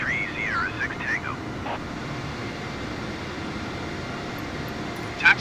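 An airliner taxis at Kansai airport in a flight simulator game. A steady low jet engine rumble runs throughout, with a short radio-like tone near the start and a brief bump at the end.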